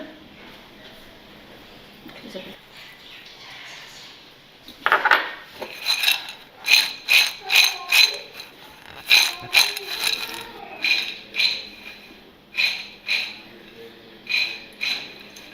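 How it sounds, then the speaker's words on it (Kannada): Prepared masala being mixed into snack grains with a metal spoon in a steel bowl, a run of rapid rhythmic clinks and scrapes starting after a few quiet seconds and repeating in bursts. "ಈ ಥರ ಚೆನ್ನಾಗಿ ಮಿಕ್ಸ್ ಮಾಡಬೇಕು. ಅಂದರೆ ಎಲ್ಲ ಕಾಳಿಗೆ ಮಸಾಲೆ ಹೊಂದ್ಕೊಳ್ಳೋ ರೀತಿ"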